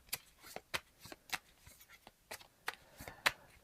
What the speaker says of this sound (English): we shuffle 3 spies into this pile